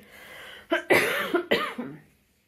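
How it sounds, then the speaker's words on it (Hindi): Three or four harsh coughs in quick succession, close and fairly loud, with a faint hum before and quiet afterward. "खांसी आने लग गई"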